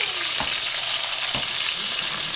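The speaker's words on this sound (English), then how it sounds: "got a nice sear on here" Spatchcock chicken sears in a hot pan with a loud, steady close-up sizzle and two soft thuds as the meat shifts, and no voices.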